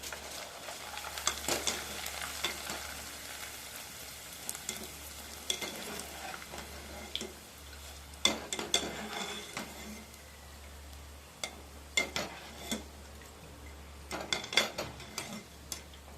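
Peanuts and flattened rice are stirred and roasted in a pan: soft dry sizzling with intermittent scraping and rattling strokes, close and fairly quiet.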